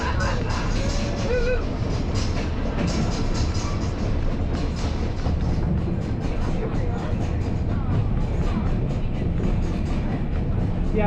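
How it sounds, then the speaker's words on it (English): White Pass & Yukon Route Summit Excursion train rolling along its rails, a loud, steady rumble with rhythmic clatter and occasional faint wheel squeals, heard from on board and sustained throughout. "go ahead and sit back, relax, and enjoy the train ride"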